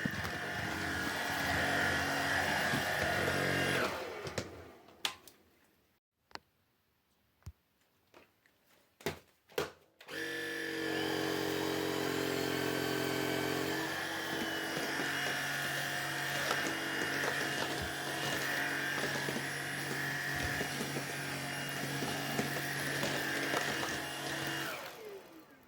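A Fabuletta FSV001 cordless vacuum cleaner whirs steadily on hardwood floors with a high motor whine, cuts out briefly with a few clicks, then starts again and runs on continuously.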